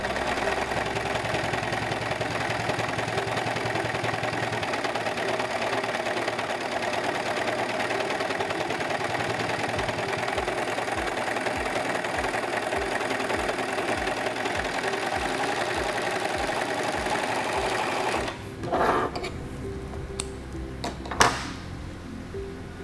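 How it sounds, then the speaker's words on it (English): Singer 14CG754 four-thread serger running an overlock stitch, a steady fast mechanical whir with rhythmic knocking that stops abruptly near the end, followed by a couple of brief handling clicks. "sew this again to see if that is the adjustment that I need to get my stitch nice and balanced"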